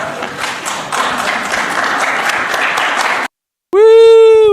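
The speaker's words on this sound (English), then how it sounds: "The way they clapping." An audience claps in a steady burst for about three seconds. After a brief gap, a sustained tone follows.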